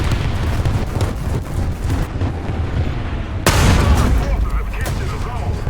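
Artillery booms roll in War Thunder, a dense rumble of heavy blasts with one sharp loud impact near the middle, close and powerful, while someone talks over it.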